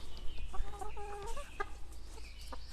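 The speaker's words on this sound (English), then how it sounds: "Now the chickens are back here in the woods." Chickens clucking in the woods, several short close clucks and bursts of calls over a low background hum, with no talk.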